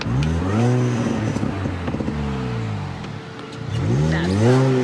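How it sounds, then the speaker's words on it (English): Mini Cooper R53 exhaust revving in a few rising and falling blips, close and loud, with a steadier idle between them and no talking. "You want to hear the exhaust?"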